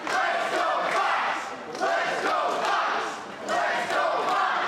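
A New York Championship Wrestling crowd cheers and chants for Foxx in rising, falling waves, with loud rhythmic shouts swelling roughly every second and a half over the arena din.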